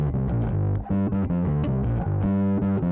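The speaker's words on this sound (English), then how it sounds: "The drive knob controls the intensity of the drive, ranging from a subtle overdrive to a fairly extreme distortion." A bass guitar runs through the drive of a Markbass Mark Vintage Pre, playing a loud, gritty overdriven riff of short repeated notes with a thick, fuzzy distorted tone and no voices.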